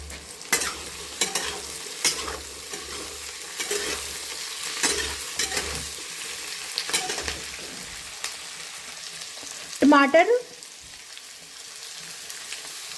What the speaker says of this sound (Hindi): आलू, गाजर, इन सब सब्जी को हमें पकाना है और गलाना है भूनते हुए